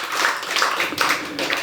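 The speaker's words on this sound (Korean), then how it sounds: "남전도회 우리 박수 한번 쳐줍시다." Church congregation clapping for the men's mission group, a brisk run of hand claps in loose bursts from a moderately sized room, fairly close and steady for under two seconds.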